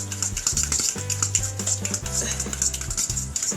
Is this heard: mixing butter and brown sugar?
yes